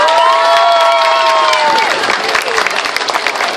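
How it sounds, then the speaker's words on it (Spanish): A crowd applauds and cheers at an outdoor dog costume contest in a shopping plaza, clapping and shouts rising as a sustained tone fades, with a voice briefly heard over it. "Vamos a darle un aplauso al número 31."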